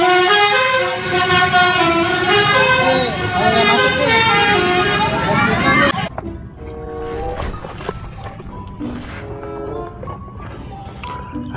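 Loud road traffic with a horn-like tonal blare over the first half as a Pahala Kencana bus passes and honks, then a quieter stretch of engine rumble with short honks and background voices.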